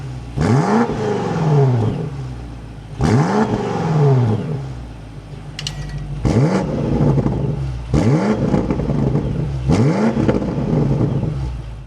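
A 2026 BMW X5M Competition engine starts up and revs, with five sharp blips that each surge up in pitch and fall back. The revs come at a steady spacing, loud and close, with no talking.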